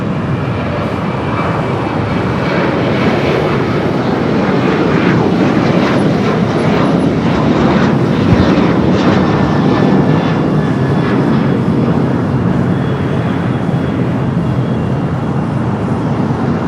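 An airliner departs LAX with a loud, sustained jet engine roar that holds steady for the whole stretch and swells slightly midway as the plane passes, heard from an outdoor spotting position with no talk.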